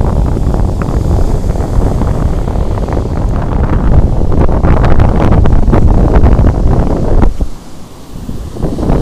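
Strong wind buffets the microphone on a southern beach while someone fishes from the sand, a continuous loud gusting rumble with a brief lull near the end.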